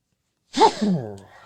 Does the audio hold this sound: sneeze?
yes